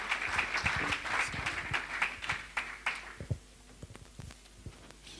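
A church congregation claps in praise for the Lord, brisk dense applause that thins into scattered, uneven claps near the end.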